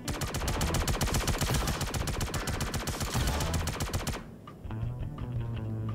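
Rapid automatic gunfire rattles loudly and close in the Star Citizen game for about four seconds, then cuts off into a lower hum.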